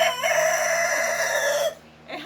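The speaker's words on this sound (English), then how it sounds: "I have two competing roosters here" Two competing rescued roosters crow loudly and close by in one long, sustained cock-a-doodle-doo that holds steady for nearly two seconds before cutting off, followed by a faint trailing call.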